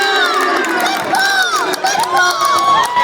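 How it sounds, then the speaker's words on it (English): Basketball fans in a gym crowd roar in disapproval over an offensive foul call during a boys varsity district seeding game, a dense sustained mass of voices with shouts rising throughout. "The boos, and good call from some of the fans here on the Sequim side of things."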